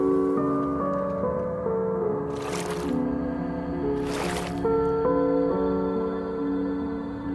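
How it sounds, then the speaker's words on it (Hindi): Two short bursts of water splashing in a mystery-doors escape video game sound clearly over steady tonal game music. They fall a couple of seconds apart, each brief and fairly loud. "ओ पानी"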